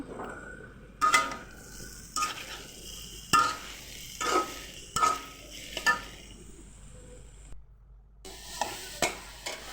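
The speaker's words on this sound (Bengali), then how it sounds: "এবার দাঁড়া পাতাটা আমি ভেজে নেব সামান্য লবণ দিয়ে" Leaves fry with a little salt in a pan, a steady sizzle broken by repeated scraping and tapping of a utensil stirring at an uneven rhythm.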